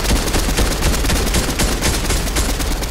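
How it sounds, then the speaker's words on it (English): Rapid, sustained automatic gunfire in a Fortnite battle, loud and dense for about three seconds with continuous bursts and no pauses, heard alone without talk. "Keep gunfire constant."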